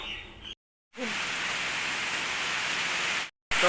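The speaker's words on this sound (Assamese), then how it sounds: "এনেকুৱা বৰষুণ দিছে" Rain falls outdoors as a steady, dense hiss that fills the scene, cut off abruptly twice by brief silent gaps.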